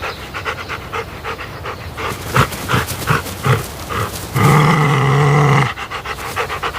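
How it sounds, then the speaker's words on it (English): Two AI-generated dogs playing together, with excited panting, snuffling and short yelps in quick bursts, then a louder sustained growl-like roar for about a second before the panting resumes, close and fairly loud. "the model successfully generated the video of a dog playing with another dog"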